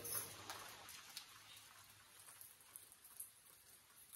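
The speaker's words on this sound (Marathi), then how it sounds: "पाऊस पडतोय सकाळपासूनच" Soft, steady rain patters outdoors, a faint continuous hiss with scattered drops and no voices.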